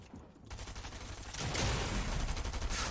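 Video game gunfire during a Fortnite-style duo cash cup match: dense, continuous bursts of rapid shots that grow louder and fuller partway through, forming a sustained barrage with no speech.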